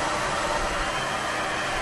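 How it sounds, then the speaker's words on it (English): A hotel room hair dryer on maximum fan, used as a heat gun on heat shrink over a motor lead, blows a loud, steady, close whooshing roar throughout with no speech. "Okay, that was hotel heat gun."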